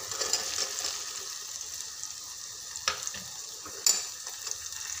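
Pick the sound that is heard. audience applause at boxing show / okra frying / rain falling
okra frying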